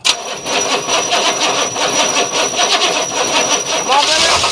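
Car engine with a cold, dead battery being cranked, a loud, close, continuous rhythmic churning that keeps going without catching.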